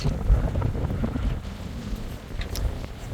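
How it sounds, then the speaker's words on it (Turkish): Strong wind buffets the microphone in a constant roar, with sloshing water and big waves around a sailing boat underneath, at sea near Chios island, Greece. "Bayağı büyük dalgalar ve çok rüzgar var."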